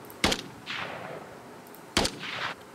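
Video game gunfire from an Unreal Engine GTA-style project: two loud, sharp gunshots about two seconds apart, each followed by a hissing echo tail.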